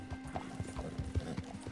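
Horse hooves clip-clop at a quick, steady rhythm with a brief whinny in a video game, faint and somewhat distant, with no talking over it.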